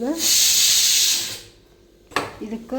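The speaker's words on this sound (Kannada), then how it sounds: "ಸ್ವಲ್ಪ ಹುಂಚೆಹಣ್ಣು ನೀರು ಹಾಕೊಂಡ್ರಿ" Tamarind water is poured onto fish, giving a steady, close rushing hiss for just over a second that stops abruptly; quiet follows, then a brief clatter and a voice speaking.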